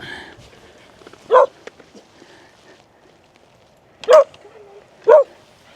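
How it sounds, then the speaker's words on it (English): A dog just let off its lead barks three times, loud and near, with faint background noise and a few soft whimpers between the barks. "first thing he's going to do is bark and want to be back on his lead again"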